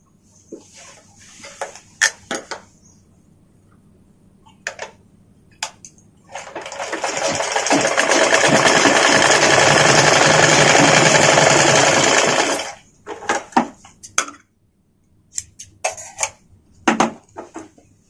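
A sewing machine stitches a petticoat seam, running as a steady, loud mechanical whir for about six seconds. Scattered clicks and handling knocks of fabric and parts come before and after it.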